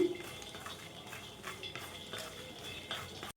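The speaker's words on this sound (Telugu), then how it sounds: "మంచి క్రిస్పీగా వచ్చేంత వరకు వేయించుకుందామండి ఫ్లేమ్ పూర్తిగా మీడియంలో ఉంచేసుకొని" Makhana (fox nuts) fry in ghee in a pan over medium flame, with soft repeated scraping and clinking of a stirring utensil against the pan and a faint sizzle beneath, close and quiet.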